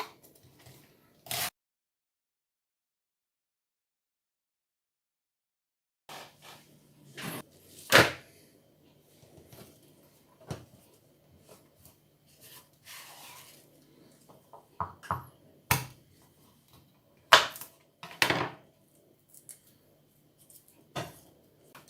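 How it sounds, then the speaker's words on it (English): Sharp knife slicing garlic into thin strips on a chopping board, a series of distinct chopping taps with a long quiet gap near the start, then irregular cuts clustered toward the end. "and then into thin strips, as thin as you can"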